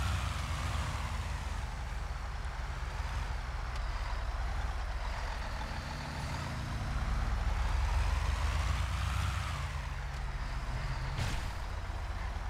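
A Scania R440 truck in GTA V drives with a steady, low engine drone that swells a little midway, with no talking.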